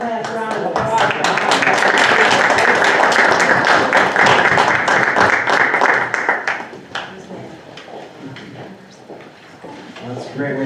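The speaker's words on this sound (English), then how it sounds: "One last round of applause." A round of applause at a school board of education meeting, a dense burst of many hands clapping for about six seconds that then thins out and fades into room noise.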